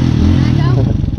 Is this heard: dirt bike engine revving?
yes